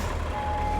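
A steady tone repeats from a truck backing up in the Roadcraft game, heard over a low engine rumble. The moment is brief, and no one speaks.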